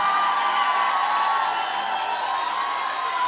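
A live concert crowd cheers and claps in one continuous, roaring wash, with whoops and shouts rising from the mass of noise and a faint tone running beneath.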